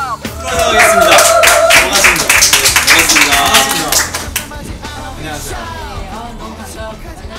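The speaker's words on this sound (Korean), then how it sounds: "박수로 환영하겠습니다" An audience claps loudly to welcome a guest at an interview event, with a burst of dense applause and some cheering that fades after a few seconds as talk resumes.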